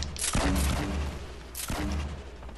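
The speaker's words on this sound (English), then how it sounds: "Oh, they're grenade launching back there." Two heavy explosive booms from a grenade launcher in the Fortnite video game, each a sharp thump with a rumbling tail, spaced about a second and a half apart under constant game noise.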